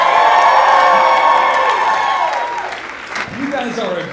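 A comedy club audience cheers and applauds loudly, whoops and clapping filling the room before easing off, with a voice cutting in near the end.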